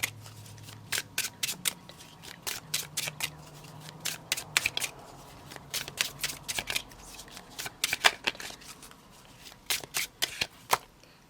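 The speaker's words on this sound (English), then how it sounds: "Please think about yourself while I shuffle." A deck of tarot cards being shuffled, with repeated sharp riffling and snapping bursts in quick irregular bursts, close and fairly quiet, with a faint low hum underneath and no talking.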